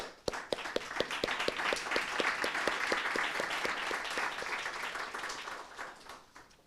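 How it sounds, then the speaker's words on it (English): A warm round of applause from the audience at a summit gathering in a university venue in Argentina, dense steady clapping with a few sharp individual claps up front, holding loud before thinning out toward the end. "a warm round of applause"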